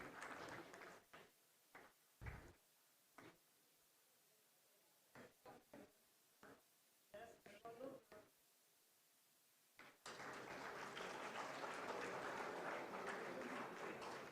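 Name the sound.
audience applause at a startup summit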